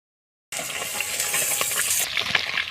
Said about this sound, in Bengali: এবার মাছগুলো তেলের মধ্যে দিয়ে দেব। একটা একটা করে ভেজে নেব।